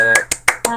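Four sharp hand claps spaced roughly evenly, close and loud, ringing out over a steady background tone in a live online discussion setting, with no speech.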